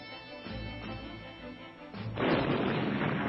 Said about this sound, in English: Heavy naval and air bombardment cleared the path ahead of them.